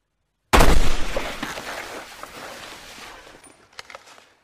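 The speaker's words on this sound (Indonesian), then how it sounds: "Lukas ditembak oleh seseorang" A single gunshot in a hunting scene from the film The Hunt, one sudden loud blast followed by a long rolling echo that fades over several seconds.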